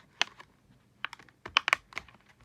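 A Hot Wheels toy car package being opened by hand, a scatter of sharp plastic clicks and crinkles in short irregular bursts, close and fairly quiet, with no voices.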